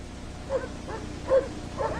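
Sled dogs on the Operation Highjump Antarctic expedition of 1946 give a few short barks and yips at moderate distance, spaced irregularly over a low background rumble.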